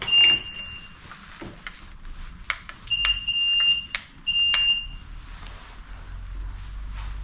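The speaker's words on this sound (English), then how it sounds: "Probably the alarm might go off." A Renault Clio Williams car alarm sounds in short piercing electronic beeps, three bursts rising over clanks and rattles nearby, with no talking, on a car unused for about two years.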